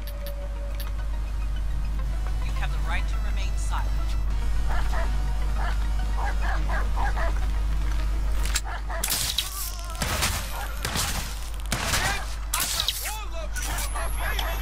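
Dogs bark repeatedly in Watch Dogs 2, sharp and fairly close, tangled with gunfire cracks, and the barking grows denser toward the end over a steady low hum.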